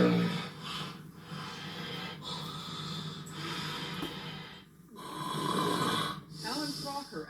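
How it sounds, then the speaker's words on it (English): A person snores through a nasal passage in a series of rough, rasping breaths with snorting edges, loud and close, rising and falling in waves with brief pauses between them. "snores."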